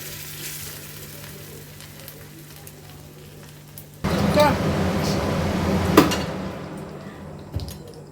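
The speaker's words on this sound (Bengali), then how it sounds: "তারপর এই যে তেলের মধ্যে দিয়ে দিচ্ছি।" Breadcrumb-coated katla fish chops drop into hot oil halfway through, and a loud, close sizzle suddenly bursts out and keeps crackling over the quiet kitchen ambience that came before it.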